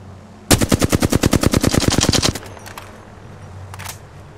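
Automatic gunfire in the battle-royale game Apex Legends: a loud, rapid burst of about twenty evenly spaced shots lasting nearly two seconds, then a lull and one faint short shot afterward.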